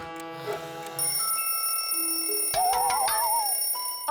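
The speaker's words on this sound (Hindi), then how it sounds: "फोन!" A telephone rings in a Hindi children's cartoon, a bright, insistent bell-like trill mixed with other cartoon sound effects, loud and close with no talking over it.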